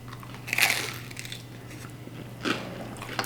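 Two crunchy bites into pizza with a crunchy bottom crust, close to the microphone: a sharp crackling crunch, then a second one a couple of seconds later, over a faint hum.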